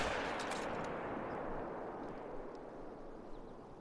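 A single rifle shot aimed at a whitetail buck in a hunting game, a sharp loud crack at the start followed by a long rolling echo that fades over several seconds.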